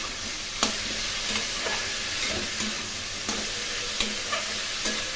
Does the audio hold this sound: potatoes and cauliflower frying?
yes